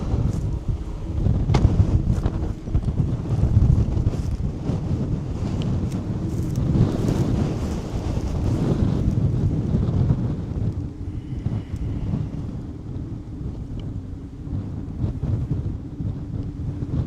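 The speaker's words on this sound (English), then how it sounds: "You hear those power lines just howling." During a thunderstorm in the Texas Panhandle, strong wind roars and buffets the microphone in continuous loud gusts, with power lines howling somewhere in the rush and no talking.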